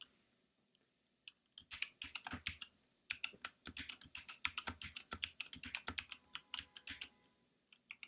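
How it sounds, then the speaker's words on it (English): Typing on a computer keyboard at a Linux terminal, quiet close-up keystrokes in quick irregular bursts with brief pauses, no voices. "I'm going to type this out by hand."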